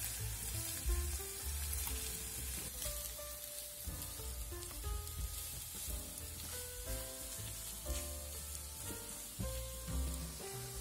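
Eggs and onions fry in a pan as the scrambled mixture turns golden, giving a steady, close sizzle with faint stirring scrapes, no voices.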